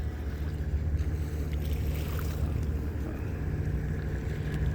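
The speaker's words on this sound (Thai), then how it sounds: "เรือลำนี้แหละนะครับ ไป เกาะหนู เกาะแมวนะครับ" A boat bound for Koh Nu and Koh Maew islands in Songkhla gives a steady low engine drone with wind and water noise, continuous and close.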